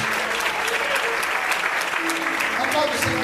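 A church congregation applauds steadily throughout, dense clapping filling the space from start to finish with a faint voice or two underneath.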